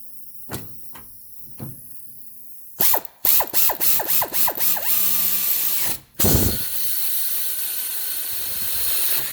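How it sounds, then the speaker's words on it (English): An air ratchet works on the wheel hub of a 2009 Subaru Forester during a front wheel bearing replacement, with a few light taps, then quick stuttering bursts followed by sustained pneumatic whirring, close and loud. "We're also going to use our air ratchet"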